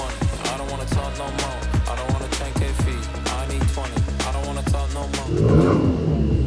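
Skoda Octavia 1.4 with DSG gearbox, its exhaust producing a steady, loud droning rumble with rhythmic pulses close by, rising into a fuller, rougher roar near the end.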